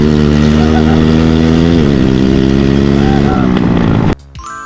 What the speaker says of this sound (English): surely I could just give it a bit of a test run without an exhaust